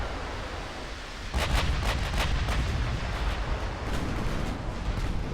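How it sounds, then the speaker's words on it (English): A torpedo striking a warship in a naval battle video game: a sudden deep rumbling blast followed by a sustained roar with several crackling bursts, loud and continuous, no talking. "Oh, we got a torpedo hit over there."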